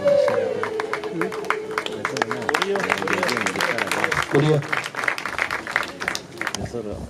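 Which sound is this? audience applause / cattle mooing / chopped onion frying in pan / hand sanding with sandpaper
audience applause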